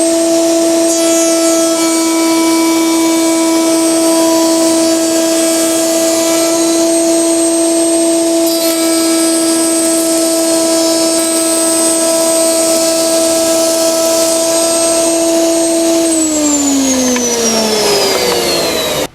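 A router fitted with a rabbeting bit runs at a steady high whine while cutting rails for a miniature raised-panel door, then spins down near the end.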